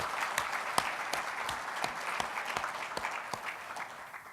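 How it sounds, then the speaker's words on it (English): Audience applause at the opening remarks of a formal program, a moderate patter of clapping from a modest crowd that stays steady and then tapers slightly. "Would you please give them all a round of applause?"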